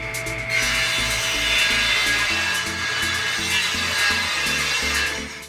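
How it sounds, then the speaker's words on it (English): Table saw cutting wood for a bathroom vanity build, a loud continuous rasping, buzzing cut with a pulsing low rhythm, close by and without speech. "I've got a table saw, so I might as well use it."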